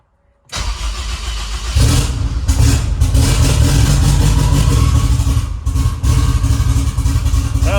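A Honda S2000 car engine fitted with a mechanical fuel pump cranks and catches after a brief starter whir, then settles into a loud, close, steady idle with slight revving.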